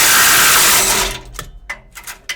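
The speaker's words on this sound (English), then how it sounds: "I'm just taking my little impact, my little Makita or Milwaukee. See if I can just pop them right out." A small cordless Makita or Milwaukee impact wrench backing out exhaust manifold bolts on a Chevy Tahoe, heard as a loud, close burst of rapid hammering that cuts off after about a second, followed by a few sharp metallic clicks and knocks.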